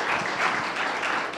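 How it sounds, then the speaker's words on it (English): A large tech-conference audience at the Galvanize campus in San Francisco applauds, a dense, sustained wash of clapping at an even level throughout. "We really need to double up on that applause for Laurie Voss, co-founder of NPM"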